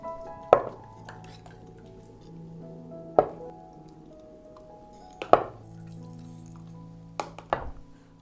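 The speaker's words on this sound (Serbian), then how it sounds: "I nakon 30 minuta kuvanja vadim tegle iz šerpe." Glass jars of homemade pepper preserves are lifted out of a pot after thirty minutes of pasteurizing in boiling water, giving four sharp glassy clinks and knocks spaced a few seconds apart over quiet background, close by.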